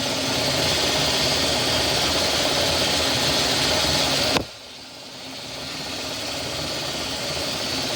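A vapor blast cabinet runs while cleaning a KZ400 motorcycle part, giving off a loud, steady hissing roar. It cuts off abruptly about halfway through, dropping to a quieter mechanical hum that slowly builds again.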